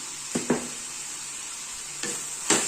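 Leafy greens with turmeric, salt and a tablespoon of chili powder being stirred in a pan over steady faint sizzling, with two pairs of spoon scrapes, one early and one near the end.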